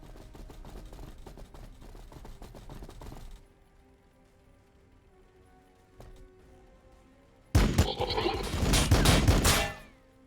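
Gunfire in the Warhammer 40,000: Battlesector strategy game, with a stretch of crackling shots, a quiet gap, then a loud burst of firing and impacts near the end.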